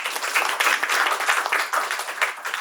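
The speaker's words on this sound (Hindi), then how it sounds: "ताली बजाइए अपने लिए" A congregation at a Christian Bible-teaching gathering claps for themselves, a continuous patter of many hands at moderate volume with no voices over it.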